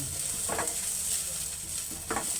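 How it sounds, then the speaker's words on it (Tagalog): Garlic and onions sautéing together in a pan for ginataang tabagwang, a continuous close sizzle with two short bursts of stirring. "sabay na silang maluto yung bawang at sibuyas."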